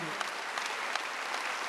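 A church congregation claps together at a Wednesday service, a steady wash of hand claps filling the room with a few sharper individual claps standing out; a voice is faintly heard at the very start.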